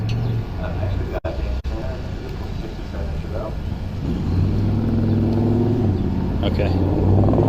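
A 1967 Chevelle engine idles and rumbles steadily at an autocross event, growing slightly louder toward the end, with a couple of sharp clicks early on.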